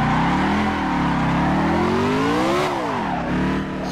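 A car is pushed hard on a race track, its engine droning loudly at high revs with a steady rising pitch, then dropping sharply as it brakes into a corner before pulling again.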